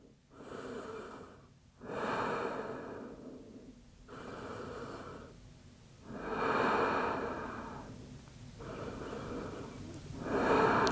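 Slow, audible breaths in yoga child's pose, hips back by the heels and forehead on the mat, in about five long, even inhale-exhale cycles, close and soft with quiet pauses between.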